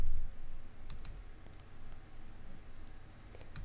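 Sharp mouse clicks on a computer during software setup for a racing control program, a quick double click near the one-second mark and another pair near the end, set against a quiet, steady room hum.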